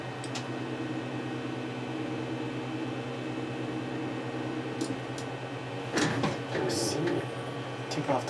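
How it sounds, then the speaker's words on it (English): A Creality CR-10S Pro 3D printer runs just after being switched on, giving a steady, close fan hum with a tonal whine, and some brief clattering handling noises near the end. "Let me turn on the printer"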